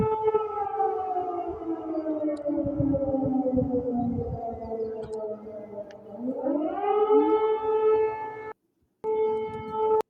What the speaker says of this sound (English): So air raid sirens going off in Russia